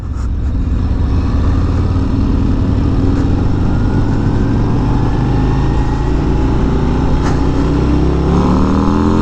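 Loud, steady engine drone from a 2022 Harley-Davidson Road Glide ST on the road, with a deep rumble and rising wind noise throughout, no voices.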